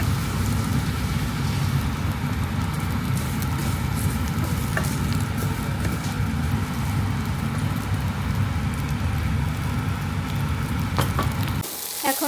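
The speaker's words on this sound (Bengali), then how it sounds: "পেঁয়াজ, রসুন তেলের মধ্যে ভাজতেছি।" Onion and garlic sizzle steadily in hot oil in a pan, a close, continuous crackling hiss that runs unbroken until a clatter at the very end.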